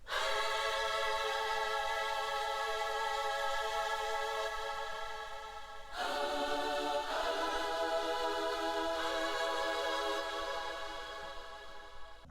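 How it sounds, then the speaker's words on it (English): A sustained, harmonically rich chorus of voices sings held chords, shifting to a new chord midway, with no drums underneath. "our little gospel choir sounded a bit like this"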